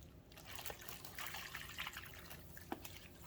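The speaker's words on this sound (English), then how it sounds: "Now we're going to add our broth." Broth pours into a roast pan with a chuck roast and sweet potatoes, a faint close trickle and splash that runs softly throughout with a few small drips.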